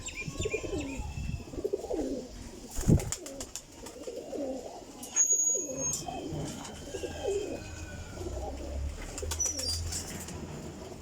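A female flying pigeon of a Teddy golden racing breed coos in repeated soft, throaty rolls close by, mixed with chirps from other birds and occasional fluttering.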